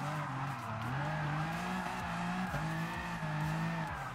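A BMW M4 in Gran Turismo Sport, set up for drifting, howls at steady engine pitch while its tires squeal and skid through a handbrake drift on a big corner, loud and continuous, with no talk.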